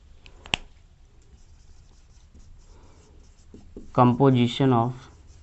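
Writing on a board during a biology lesson: a sharp tap, then faint scratchy marker strokes in a quiet room. A voice briefly speaks at the end.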